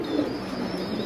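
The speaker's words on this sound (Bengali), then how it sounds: "মুন্ডিয়ান কবুতর" African Mundian pigeons give a quiet, drawn-out coo, a faint low rumble held for about a second at close range.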